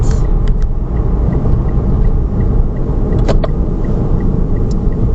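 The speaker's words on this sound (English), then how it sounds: "we are pulling back into the Holton exit. Take you for a little ride down the ramp" A car rolls down a highway exit ramp into Holton, with a steady close road and engine rumble, tire noise and a few faint clicks and ticks, and no talking.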